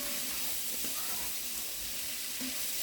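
Onions cooking down in a pan give a steady, soft sizzle and hiss throughout, faint and continuous with no talking.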